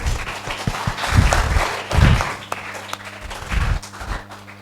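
Audience applause swells and fades in waves, a crowd clapping steadily in a room with some low voices underneath.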